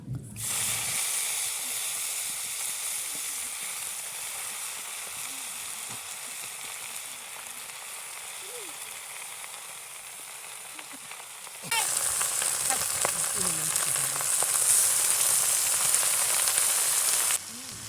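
Garlic and torn dried chili fry in hot oil with a steady close sizzle, then the sizzling jumps louder and brighter as pea greens go into the pan.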